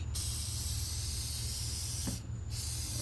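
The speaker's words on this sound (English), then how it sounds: "just give it a little spray up and down, like even like this, up and down the pleats" A close, steady hiss of aerosol oil being sprayed up and down the pleats of an air filter, held almost continuously, with one brief pause before resuming.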